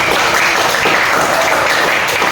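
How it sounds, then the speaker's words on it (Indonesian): A class of students applauding together, a dense, steady burst of clapping lasting a couple of seconds at close range. "Oke, tepuk tangan."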